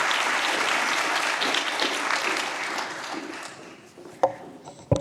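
An audience at the C3E 2024 event applauds to welcome Sally Morton to the stage, a dense roomful of clapping that slowly thins and fades, ending in a few scattered claps and knocks.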